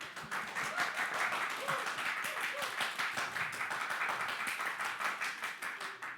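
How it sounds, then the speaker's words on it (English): An audience claps for several seconds with an even, moderately loud patter of many hands that keeps the same level from start to finish. "please give applause"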